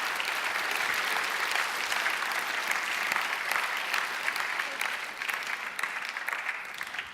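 Steady, dense audience applause rolls on for several seconds after a keynote address at the 2017 Reagan Leadership Summit, heard from a distance in a large room and tapering slightly near the end.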